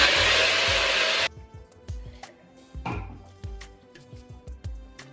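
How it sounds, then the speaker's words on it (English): A kitchen blender blitzes ice for mango lassi in a loud, dense roar lasting about a second, then cuts out, leaving scattered clinks, knocks and rattles of ice settling. "I just love the sound of the ice being blitzed."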